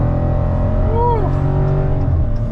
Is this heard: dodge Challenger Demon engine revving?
yes